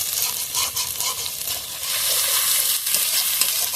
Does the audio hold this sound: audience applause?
no